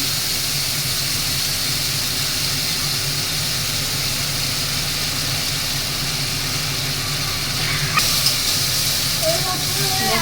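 Water splashed into mustard paste in a hot pan gives a loud, continuous, close hiss of steam and sizzle that holds steady for the whole stretch.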